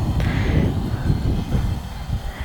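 Folding GPS camera drone (LH-X28WF) flying outdoors in strong, gusty wind, its steady whirring hum blending with loud low wind buffeting that fills the whole stretch without pause.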